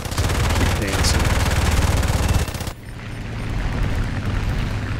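Machine-gun fire from a Gladiator Mk I biplane in War Thunder rattles loudly in a dense sustained burst, then cuts off to a quieter engine drone, with a voice talking briefly.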